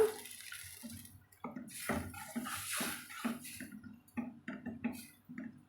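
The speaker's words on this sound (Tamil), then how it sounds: "இப்போ இந்த தண்ணியுமே நம்ம இதில் சேர்த்துக்கலாங்க" Water splashes and pours in uneven bursts into a cooking pot of tomato sambar, with gurgles and drips between pours, close by and fairly quiet.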